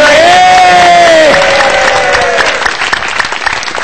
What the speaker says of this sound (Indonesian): Tepuk tangan dulu dong, kasih suara